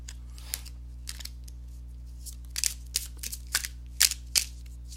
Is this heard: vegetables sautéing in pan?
no